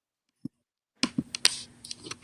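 Keyboard typing in a quiet room, a single isolated click followed by a burst of irregular keystrokes with a faint steady hum beneath, fairly close and moderately loud.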